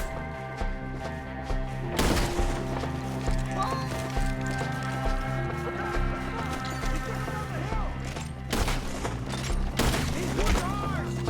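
Gunfire in the Red Dead Redemption 2 video game, sharp bursts around two, eight and ten seconds over steady horse hooves, galloping and game music, with voices shouting now and then.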